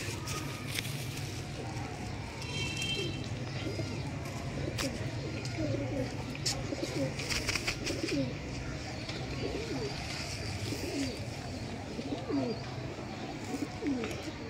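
Sialkoti high-flyer pigeons coo softly and repeatedly in a busy, noisy outdoor setting, with voices talking in the background throughout.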